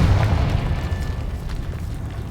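A heavy, rumbling blast from the Confringo spell in Hogwarts Legacy booms up loudly at the start, then trails off into a long, fading roar.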